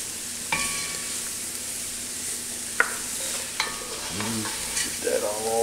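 Celery and sweet onion sautéing in a pot for squirrel jambalaya, a steady low sizzle with spoon scrapes and clinks against the pot, a few sharp knocks, close and without talk.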